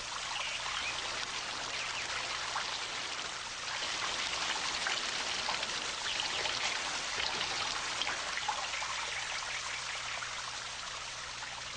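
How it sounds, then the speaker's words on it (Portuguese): Water streams out through many small holes in a container, like a shower, a steady broadband hiss of trickling and pattering drops that runs continuously and fairly close with no talk. "a água sai pelos buraquinhos como em um chuveiro"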